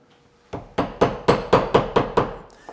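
Quarter-inch wood chisel struck repeatedly with a mallet while cutting out a small drawer joint, seven crisp evenly spaced knocks, close and loud, with no talk.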